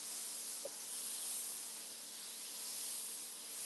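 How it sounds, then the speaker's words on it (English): A Laurastar steam iron releasing a steady, soft hiss of steam while hovering over silk fabric. The hiss is continuous and fairly faint, with a tiny click near the start. "that cushion of air here is going to allow me to hover that steam right over the silk, remove those wrinkles really quickly"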